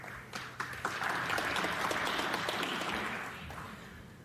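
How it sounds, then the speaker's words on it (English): Snooker audience at the Northern Ireland Open semi-final bursts into steady applause after a pot, a dense patter of clapping that swells in quickly and holds for several seconds before easing off. "There's some applause."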